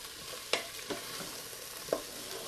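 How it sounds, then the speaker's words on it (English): Barbecue sauce stirred while sautéing in an Instant Pot with a ceramic insert: a quiet, even sizzle with three soft utensil scrapes against the pot, close and faint. "keep this stirring so that it doesn't scorch"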